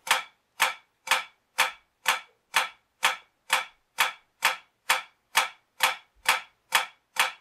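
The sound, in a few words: drumsticks playing continuous flam strokes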